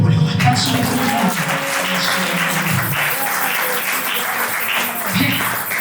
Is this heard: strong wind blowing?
no